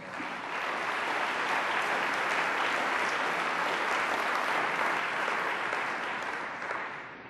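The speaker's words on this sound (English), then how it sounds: "Please give them a round of applause." Sustained audience applause fills a large hall at a cystic fibrosis conference plenary, dense even clapping rising quickly, holding steady for several seconds, then tapering slightly at the end.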